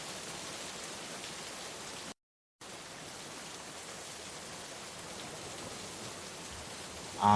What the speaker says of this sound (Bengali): বাইরে তাকিয়ে দেখলাম বৃষ্টির মাত্রা একই তালে বয়ে চলেছে